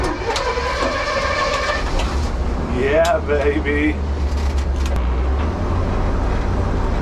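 An old bread truck's engine rumbles steadily while driving, a low continuous drone running the whole time beneath a voice talking.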